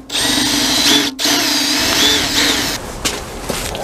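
A power drill runs loud and steady, close by, as it drills out a rivet while changing a rear lamp on a Scania R 450 truck, with the motor dipping briefly before it continues.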